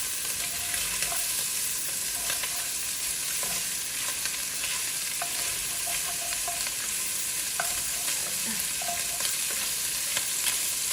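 Italian sausage frying in a pot for a one-pot pasta with peppers, steady close sizzle broken by repeated scrapes and clanks of a spoon stirring, with no talking.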